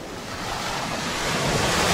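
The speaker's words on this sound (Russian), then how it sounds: "В данный момент мы находимся на одном из волноломов." Sea waves wash against a breakwater at the beach resort of Nikolaevka in Crimea, a steady, broad roar of surf mixed with wind buffeting the microphone that swells slightly louder toward the end, with no voices.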